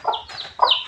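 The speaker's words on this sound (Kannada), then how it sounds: "ಈ ಕೋಳಿಗೆ ಹೋಗ್ಲಿ ಎತ್ಕೋಬೇಕು ತಾನೆ, ಪುಕ್ಕ ಹಿಡಿದು ಎತ್ಬೇಕು ತಾನೆ" A hen squawks and clucks twice in quick bursts as she is lifted up by her feathers, close and fairly loud.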